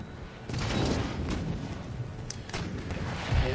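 Artillery fire from the strategy game Empire: Total War during a fort defence, with heavy booming cannon blasts over a dense, rumbling battlefield din and sharper reports near the start, middle and end.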